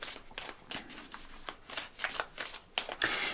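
A deck of oracle cards being shuffled by hand produces quick, soft riffling and slapping bursts in an irregular rhythm, close and fairly quiet, with no talking.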